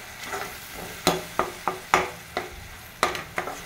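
Banana and jaggery frying in a pan while being stirred, a soft sizzle broken by about eight sharp scraping strokes of the spoon, irregularly spaced, with no voices.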